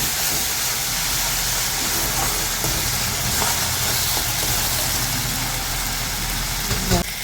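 Fish being stirred slowly in a hot pan gives a loud, constant sizzle and hiss with a few scrapes of the utensil near the end.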